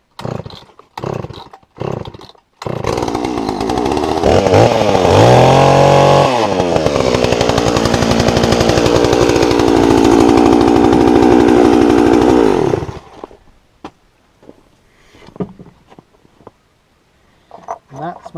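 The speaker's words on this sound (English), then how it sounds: "my Johnson Red chainsaw." A Jonsered chainsaw roars loud and close for about ten seconds, its engine pitch rising and falling as it revs, bracketed by clattering knocks and handling noises before and after.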